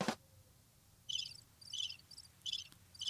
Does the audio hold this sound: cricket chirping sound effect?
yes